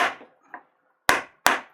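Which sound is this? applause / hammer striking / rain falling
hammer striking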